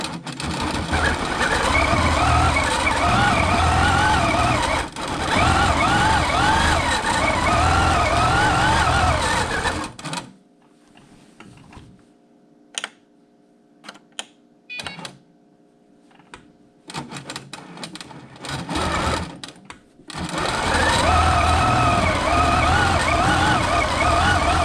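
A longarm quilting machine stitching in regulator mode on a curved log cabin quilt, running as a loud, steady mechanical hum with a rapid rattle, stopping for about ten seconds and then resuming.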